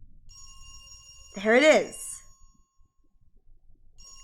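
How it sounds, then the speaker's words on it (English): A telephone in the horror video game Dread Weight rings with a faint, steady electronic tone that echoes down a hallway, while a person speaks briefly over it. "The ringing echoes down the hallway."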